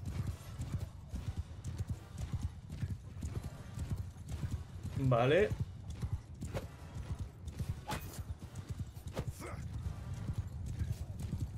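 Rapid, rhythmic hoofbeats of a galloping horse in the medieval battle game Mount & Blade II: Bannerlord, close and continuous, with a brief whinny midway and someone talking over it.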